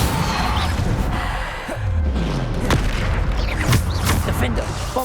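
Bombarda blasting spells from a Hogwarts wizard video game, heavy booming explosions and crashes repeating amid dense battle noise, with voices shouting spell names over the din.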